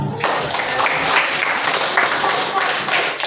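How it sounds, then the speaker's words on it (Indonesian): Children clapping their hands in a classroom, a brisk burst of many hands that runs steadily and fairly close, with a few louder accents. "Pak Andar lagi, tepuk tangan."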